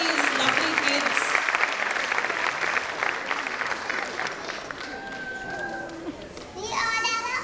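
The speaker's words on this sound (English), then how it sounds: "Let's clap for these lovely kids." Audience applause for children at a school annual day, dense clapping with children's voices and chatter mixed in, tapering off before a voice speaks at the end.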